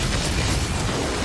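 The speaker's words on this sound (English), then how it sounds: "Explosions and stuff." Continuous rumbling blasts of explosions in Tiny Tina's Wonderlands, loud and dense with heavy low-end booms and no pauses between them.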